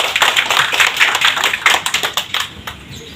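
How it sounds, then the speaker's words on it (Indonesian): An audience at a community event claps, starting as a brisk burst that thins into scattered, separate claps before fading out. "Boleh tepuk tangan untuk kita semua."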